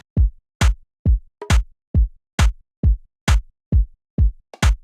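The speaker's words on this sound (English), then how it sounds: "Both are like bongos or something." Bongo drums are struck in a steady, even pattern, alternating low thumps with sharper high slaps, about two hits per second, dry and close.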